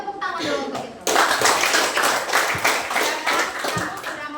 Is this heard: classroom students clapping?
yes